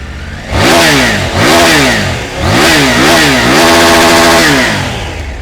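A 2021 Triumph Tiger 850 Sport engine revs up three or four times in quick bursts through a side-mounted stainless steel single-barrel exhaust, loud and close, then holds a steady high throttle before easing off.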